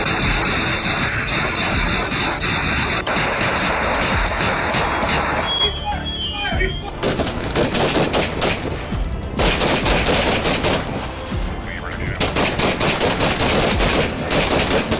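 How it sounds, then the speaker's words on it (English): Gunfire crackles in a police shootout at a house, with rapid bursts and volleys of loud shots, some sustained like automatic fire, alternating with brief pauses across the stretch. "Police came under fire as they arrived. They returned shots and Roberts went down."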